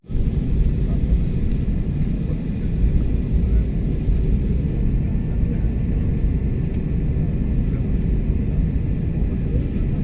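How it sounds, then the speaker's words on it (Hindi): From inside the cabin, a passenger airplane taxis onto the runway, its engines a loud, unbroken low rumble with a steady hiss that lasts the whole stretch. "अब हमारा हवाई जहाज़ रनवे पे इंटर कर रहा है।"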